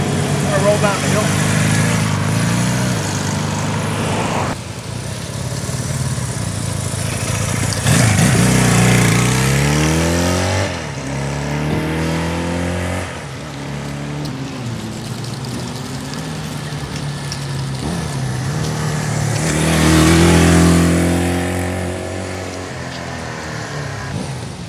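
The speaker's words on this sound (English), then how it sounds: "Listen to this thing idle, it purrs like a kitten, so quiet." A 1971 Honda CB175 Super Sport motorcycle engine idles steadily with a low throbbing rumble, blipping up in revs a couple of times, while a person talks over it.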